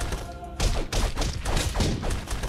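Explosion blowing up a player in the side-scrolling brawler Castle Crashers, a burst of loud booming crashes and thuds in rapid succession, close and dense, with game effects layered over it.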